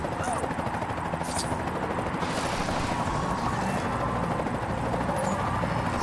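Steady, loud helicopter rotor drone fills the scene in the Lego Incredibles video game, a continuous whirring wash with no breaks.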